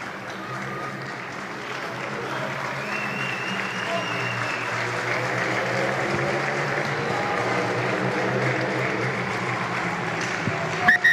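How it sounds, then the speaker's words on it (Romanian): Spectators at a Romanian national league rugby match between CSA Steaua and CS U Cluj applaud in a steady, sustained wash across the stands, with crowd noise and voices mixed in throughout. "spectatorii se apucaseră să aplaude"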